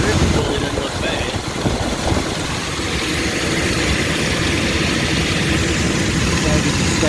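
A Rheem package unit runs steadily with its drive pulley turning, a loud continuous mechanical roar and hum with broadband rushing noise that stays constant throughout.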